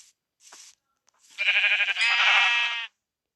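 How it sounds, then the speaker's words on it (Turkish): A sheep bleats in a long, wavering cry in a Minecraft-style video game, preceded by a couple of short soft sounds, clear and close against silence. "Aha bir sürü koyun var"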